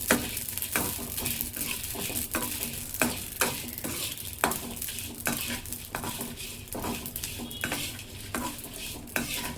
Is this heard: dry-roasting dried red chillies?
yes